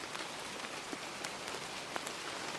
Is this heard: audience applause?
no